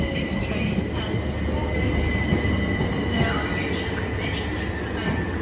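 A train at Ashford International station at night, with wheels squealing in high drawn-out tones over a steady low rumble of railcars and station ambience, and people talking nearby.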